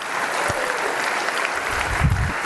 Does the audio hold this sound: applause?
yes